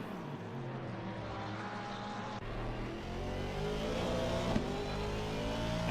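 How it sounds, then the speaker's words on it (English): Race car engine in a sim racing game at Oulton Park, a steady loud drone with rising revs and shifting pitch held throughout, no talk. "listen to that engine noise."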